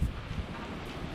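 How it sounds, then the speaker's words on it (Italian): Strong wind buffets the microphone outdoors on a rainy day among trees, a short burst of rough, loud, low gusting noise with no clear voice. "C'è un vento assurdo oggi."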